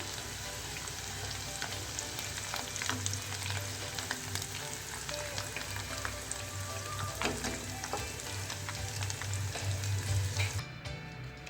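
White chickpeas frying in hot oil give a busy, continuous sizzle with crackling pops, steady and close throughout, ending with a brief drop near the end.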